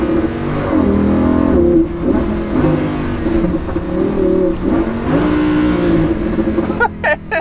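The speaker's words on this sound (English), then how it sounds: "That was a double downshift." Lamborghini Huracan engine roars close and loud, its pitch stepping down twice in quick succession during a double downshift, then droning on under acceleration, with a brief voice near the end.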